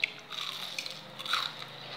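Biting into homemade crispy onion rings coated in fried batter: close, faint crunches and chewing with a couple of sharper bites, no talk.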